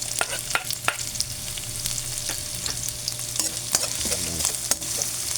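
Ginger sautéing in a hot pan for Filipino fish sarciado, a steady bright sizzle with a few sharp scrapes and stirring clatters throughout, close and with no one talking.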